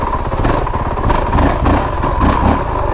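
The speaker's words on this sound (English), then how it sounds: "I'm cracking the throttle pretty good." A 2022 Honda CRF450RL dual sport motorcycle engine revving hard on tight technical offroad terrain, a loud continuous throbbing roar with rhythmic surges as the throttle opens.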